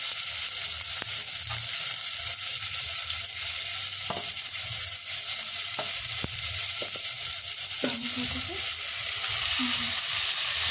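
Tomato fries with a constant close sizzle in a pan, broken by a few scraping stirs and clinks of the spoon, with no voices over it.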